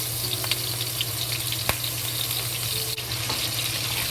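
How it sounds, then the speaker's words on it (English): Onion, garlic and ginger slow-frying in hot oil, a steady, even sizzle close by with a few faint clinks, no voices. "We slow fry until the onion and garlic and ginger release good smell."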